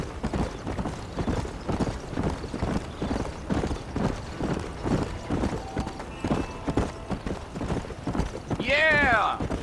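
Horse hooves clip-clop in a steady galloping rhythm in the Red Dead Redemption video game, with a horse whinny near the end and voices talking over it.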